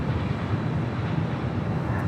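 A Korean Air Airbus A380 arriving at Los Angeles International Airport, a broad, steady engine roar with a low rumble that holds evenly throughout, no voices.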